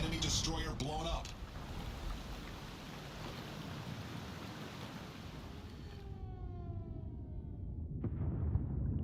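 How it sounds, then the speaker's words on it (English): An enemy destroyer blows up in a naval video game, a broad rumbling blast that rolls on as a sustained wash of noise, with a brief spoken voice at the start and a descending alarm-like tone near the end. "Enemy destroyer blown up."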